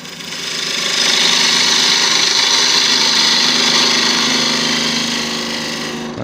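A wood lathe runs loud and steady as a gouge shapes the outside of a wooden holder for glass jar candles, a continuous close whirring cut that swells in the first second and holds.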